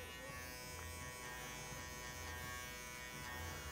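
Electric hair clipper running while cutting a fade haircut, a continuous close buzzing hum with slight variations as it moves, steady throughout.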